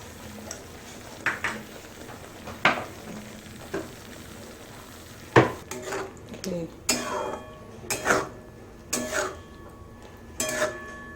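Palak paneer gets mashed and stirred with fresh cream in a pan, a utensil knocking and scraping against the metal in sharp, irregular clinks that grow busier toward the end, with a voice talking between them.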